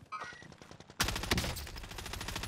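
Rapid automatic fire from a FARA 83 rifle in Call of Duty, a loud continuous burst starting abruptly after a quiet moment, no voices.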